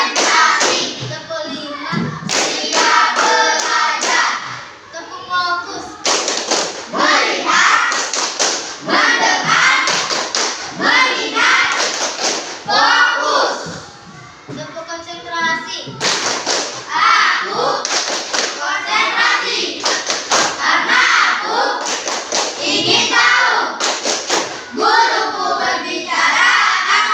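Children in a classroom clap in rhythmic bursts through a counted clap routine, the claps sharp and close, while chanting voices and an adult's leading calls run over them almost throughout.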